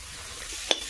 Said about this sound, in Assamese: এতিয়া জিকাখিনি ভালকৈ ভাজি ল'ম